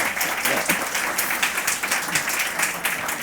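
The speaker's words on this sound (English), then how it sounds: "your applause is for these terrific speakers and panelists" A conference audience applauds speakers and panelists at a healthcare policy event, producing a dense, sustained clatter of many hands clapping throughout.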